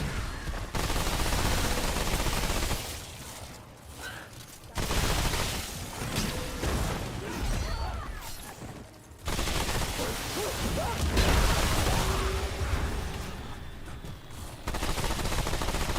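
Sustained, dense gunfire from Gunner enemies in the video game Remnant 2, nearly continuous bursts of rapid shots and booms with brief drops in intensity, loud and close throughout.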